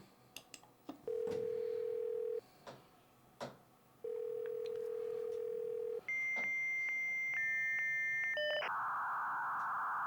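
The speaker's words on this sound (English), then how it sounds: "This modem is so slow." Dial-up modem connecting: two long steady dial tones separated by clicks, then a sequence of pitched handshake tones and warbles ending in a loud hissing noise burst, clear and close.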